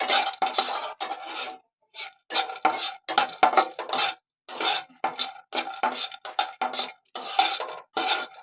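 Nutmeg and whole spices being dry roasted in a pan for Malvani masala, heard as repeated bursts of scraping and clinking from a utensil stirring against the pan, with short pauses between strokes and no talking.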